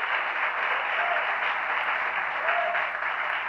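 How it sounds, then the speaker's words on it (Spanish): A church congregation applauds together in a steady, dense wash of clapping that holds evenly for a few seconds with no voices over it. "¡Démosle un aplauso, Señor!"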